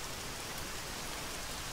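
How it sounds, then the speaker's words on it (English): Steady rain in the ArmA 3 video game hisses evenly, a dense wash of falling drops at low level with no other sounds or speech. "I'm gonna stop this rain"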